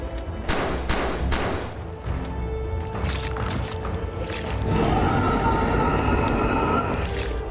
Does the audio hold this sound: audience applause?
no